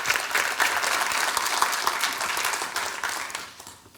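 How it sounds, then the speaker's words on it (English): An audience at a conference keynote session gives a round of applause to welcome Paula Dowdy of Illumina EMEA. The clapping is dense and sustained at a moderate level, then thins and fades toward the end. "Please have a round of applause for her."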